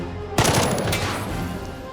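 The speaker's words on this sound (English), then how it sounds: "Stop shooting him, he's down already." Burst of automatic gunfire in the tactical game Jagged Alliance 3 bursts in abruptly after a brief quiet, then decays into a dense, ringing rattle that stays loud without any voices.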